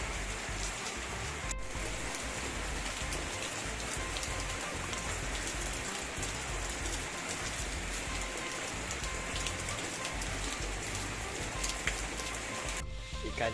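Steady rain falling outdoors after a catfish fishing trip, a dense, continuous hiss of drops on surfaces close by, filling the whole stretch with no voices.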